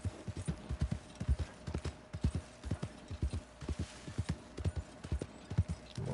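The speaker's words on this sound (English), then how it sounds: "That is one fine horse." Horse hooves clip-clop at a steady walking rhythm, close and clear, in the western video game Red Dead Redemption 2. A brief whinny comes at the end, with no talk.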